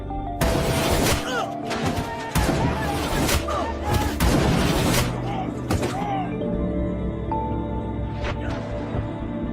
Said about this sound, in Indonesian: Namun tiba-tiba sebuah tembakan melesat, satu peluru yang membuat satu persatu pasukan CIA tumbang.